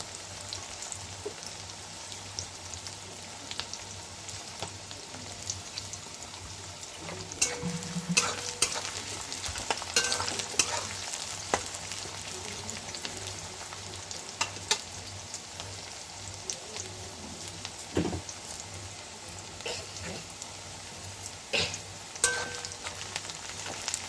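Onions frying in a pan for a fenugreek-leaf chicken curry, a steady crackling sizzle with occasional stirring scrapes and clinks of a utensil, close and continuous with no talking.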